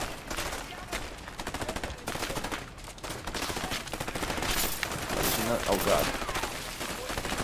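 Repeated shotgun blasts in the video game A Way Out, fired across a pool, heard as sharp loud reports scattered through a busy mix of game sound and music, with someone talking briefly.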